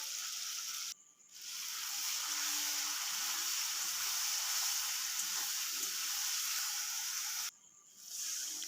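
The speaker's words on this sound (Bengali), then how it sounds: "এবারে ভেজে রাখা ডিমগুলো দিয়েও একটু কষিয়ে নেব।" Masala with fried eggs sizzles steadily in a pan for egg curry, a loud, continuous hiss broken by two short dips, with no voices.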